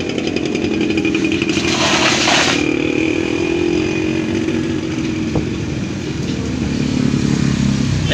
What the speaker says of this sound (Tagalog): Ayan yung open pipe ni boss.